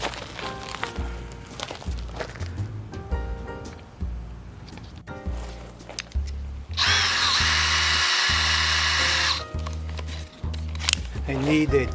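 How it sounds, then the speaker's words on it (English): A power drill bores out a broken screw on a storage compartment's rubber hinge, whining steadily for about two and a half seconds, loud and close, with talk before and after. "so we're gonna have to drill it."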